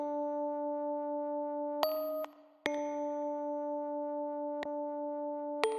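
Lounge Lizard organ piano notes ring out over a sustained chord from a jazz-style progression, with a few sharp bell-like strikes spaced seconds apart above the steady held tones; no voices.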